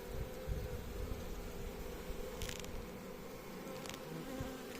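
Dense, continuous buzzing of many honey bees close by at a hive with a queen outside, a steady droning hum with no talking.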